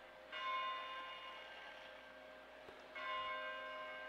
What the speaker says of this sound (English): Oh, that's a big bell.